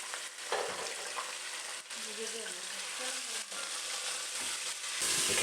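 Chicken fries in a pan with a dense, continuous close-up sizzle and crackle that holds steady throughout.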